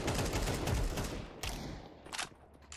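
Video game gunfire, a rapid burst of close automatic shots followed by a few separate sharp single shots spaced out over a quieter background.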